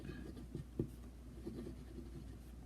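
A fountain pen with a medium nib and green ink scratches softly across paper in short, faint strokes, heard close against a low background hum, with no talking.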